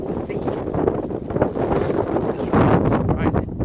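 Strong outdoor wind buffets the microphone in a steady, heavy rumble with gusty swells, loud and close, under a voice talking.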